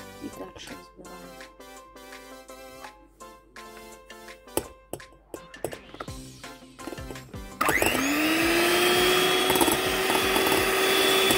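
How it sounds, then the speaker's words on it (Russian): An electric mixer whips egg whites with sugar into a thick foam, first in choppy bursts with clinks and pauses, then running as a steady loud continuous whir for the last few seconds. "И дальше взбиваем."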